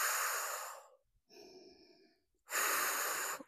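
Slow, smooth breaths during a plank exercise: a long airy exhale, a quieter softer intake, then another full exhale, close and alone.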